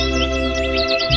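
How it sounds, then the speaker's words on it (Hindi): Faint cartoon bird chirps from Doraemon twitter in quick repeated bursts over a steady droning background hum, sounding distant. "दूर से आती है चिड़िया की आवाज।"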